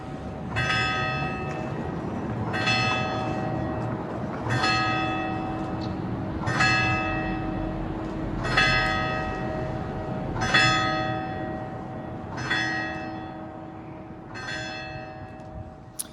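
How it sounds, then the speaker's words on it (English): A church bell tolls the hour at ten o'clock in Verona, about eight slow, evenly spaced strokes that ring out over steady outdoor ambience and fade gradually between strikes. "there goes the bell, it's 10 o'clock"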